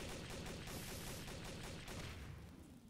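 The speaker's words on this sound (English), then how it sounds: "that's Candace shooting me" Gunfire in Garry's Mod Trouble in Terrorist Town, a fast continuous burst of shots sounding dense and rattling, fading slightly toward the end.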